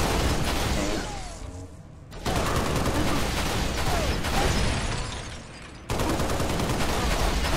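Rapid automatic gunfire crackles in Halo Reach combat, dense bursts that pause briefly twice and then resume, loud and close with mechanical clatter.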